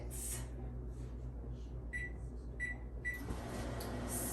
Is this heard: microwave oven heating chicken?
yes